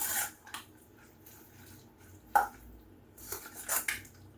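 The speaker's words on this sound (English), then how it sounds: "we're just gonna mix and mix and mix" Golden apple mélange being tossed in a bowl: a few scattered utensil clinks and scrapes against the bowl, quiet and close, with pauses of near silence between them.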